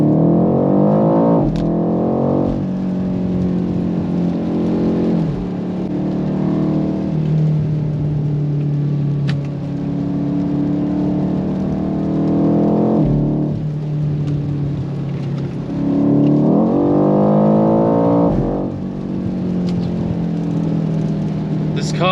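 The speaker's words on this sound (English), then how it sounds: "Let's give it full throttle." A BMW M8 Cabriolet at full throttle, its engine roaring close and loud as the pitch climbs in repeated rising sweeps, with several gear changes along the way and no one talking.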